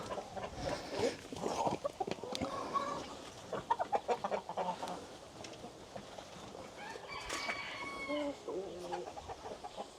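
A village coop with five roosters and five hens, busy with close clucking and squawks, and a crow rising near the end, all overlapping without speech.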